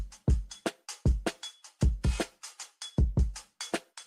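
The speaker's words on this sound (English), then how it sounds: "if I play the kick. With the compressor." A kick drum played through a compressor in a music production session thumps in a steady repeating pattern of punchy, tight low hits, loud and dry, mixed with short brighter transients and no talking.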